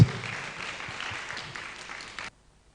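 An audience at a public discourse event claps to welcome a speaker, a moderate, fairly distant patter of hands that fades slightly before stopping abruptly.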